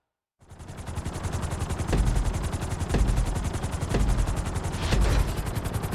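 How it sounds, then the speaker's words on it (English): A helicopter flies in the Grand Theft Auto 5 video game, its rotor giving a loud, steady, rapid chopping drone that fills the whole stretch with a few louder swells and no talk. "we're gonna put you in a helicopter for this lesson"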